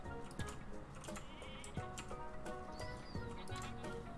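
Goat bleating in a video game, short nasal bleats recurring over a steady bed of ticking, clip-clopping game sounds and faint music, fairly quiet throughout.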